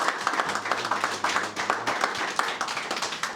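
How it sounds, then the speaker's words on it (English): An audience at a high school men's golf team awards ceremony claps for a named team member, a lively burst of many hands applauding close by at a fairly loud, steady level. "A round of applause."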